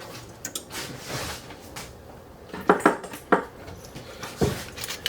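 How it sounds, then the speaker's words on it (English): A pepper grinder cracks fresh black pepper in a kitchen, giving sharp, close grinding clicks and rasps in short irregular bursts with brief pauses. "I'm a great fan of freshly cracked black pepper."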